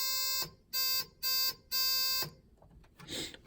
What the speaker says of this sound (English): Or not a horn buzzer, light buzzer.